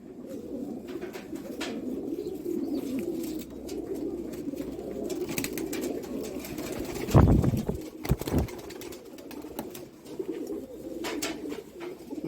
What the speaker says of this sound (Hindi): ये छत वाला बटेरा कबूतर है, बहुत ही हाई क्वालिटी।